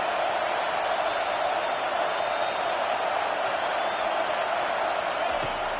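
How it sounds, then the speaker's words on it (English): A stadium crowd at an LSU football game roars in a steady, dense wash of noise that holds at constant loudness throughout, with no distinct voices standing out. "The roar of the crowd trying to fuel this defense to keep them pinned in their own end"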